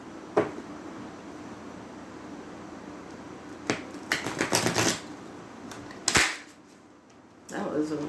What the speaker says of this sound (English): That was a weird shuffle